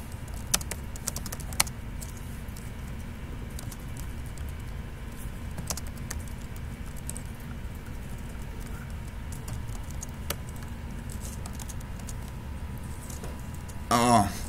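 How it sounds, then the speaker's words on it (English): Keystrokes on a computer keyboard during a live coding stream on Angular, a steady low patter of faint taps over a constant background hum, with a few sharper clicks and a louder burst at the end. "I don't have the typing skills this morning either"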